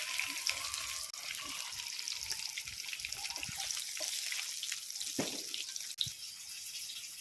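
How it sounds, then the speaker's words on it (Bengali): Fish pieces deep-fried in a pan for home-style chili fish until crisp and deep red: a steady, close crackling sizzle with bubbling oil that runs evenly through the whole stretch, with a few brief louder pops. "পুরো কড়া কড়া করে ভেজে নিয়েছি একদম লাল করে ভেজে নিয়েছি"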